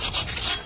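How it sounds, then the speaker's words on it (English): Brief, close scrubbing on the crusty, rusted wheel hub of a 2012-2019 Ford Focus during a front brake pad and rotor job. About four quick abrasive back-and-forth strokes, loud and alone. "I want to get some of that crusty rust off of there."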